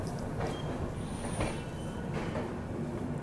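The Sealdah Bikaner Duronto Express pulls out of Pandit Deen Dayal Upadhyaya Junction with a steady close rumble of wheels on rails and faint high squeals and clicks. No one speaks.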